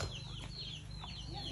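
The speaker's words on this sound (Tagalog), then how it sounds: "tingnan mo, oh, ang daming manok." Chickens cluck faintly in a rural Philippine province yard, several soft, scattered calls drifting over a steady low background hum.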